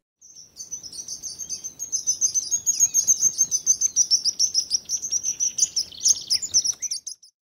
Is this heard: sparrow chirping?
yes